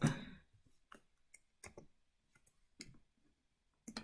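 A handful of sharp, dry computer mouse clicks at a desk, spaced irregularly and heard up close in a quiet room, with faint small taps between them.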